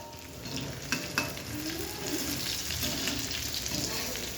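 Food frying in a pan gives a continuous hissing sizzle with a few louder crackles near the start, heard up close at a moderate level.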